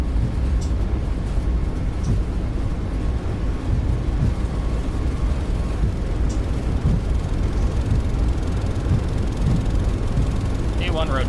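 Boeing 737 MAX 8 jet engines spooling at takeoff thrust in a flight simulator on departure from Las Vegas, a steady broad roar filling the whole stretch with a faint chirp near the end.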